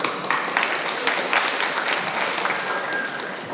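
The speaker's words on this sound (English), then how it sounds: "So give a big round of applause to Moran and City for Metabolize." An audience at a hackathon demo session applauds, a continuous, moderately loud patter of many hands clapping together in an indoor hall, fading slightly toward the end.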